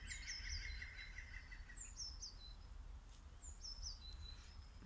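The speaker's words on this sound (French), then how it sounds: "Merci aux oiseaux qui nous accompagnent pour cette méditation." Outdoors in nature, small birds sing faint, high, sweet phrases, repeated a few times against a soft, steady background hush.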